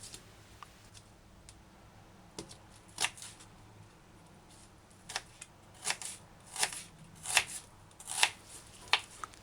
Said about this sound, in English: Make 1/8 of an inch slices.